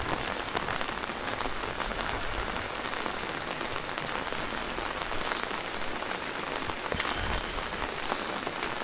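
Steady rain pattering on a surface in Dieng, a dense even hiss of drops throughout with no voices.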